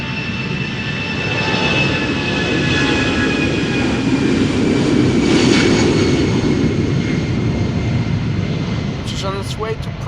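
An easyJet Airbus A319 bound for Prague passes near Schiphol Airport with a steady jet roar that builds and fades, its whining engine tones sliding in pitch as it goes by.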